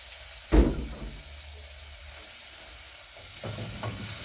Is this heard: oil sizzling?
yes